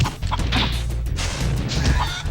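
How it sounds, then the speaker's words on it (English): Chickens in the Spyro the Dragon video game cluck and squawk in short repeated bursts over a low, steady game background hum, with no talk. "I need a chicken or two."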